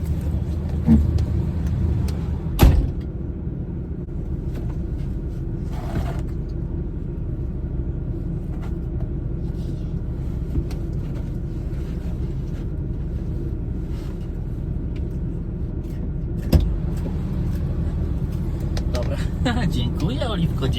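A parked car warms up with its engine idling, a steady low rumble filling the background. A couple of sharp clicks stand out, and people talk quietly over it.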